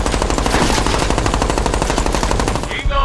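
Rapid, loud machine-gun fire from Medal of Honor: Warfighter, a dense stream of close shots rattling continuously for about three seconds before cutting off.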